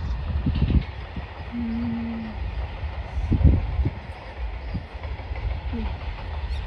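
A train passing close by, steady rumbling with clickety-clack of wheels over rail joints, a brief squeal and low mechanical hum, and faint talk in the background.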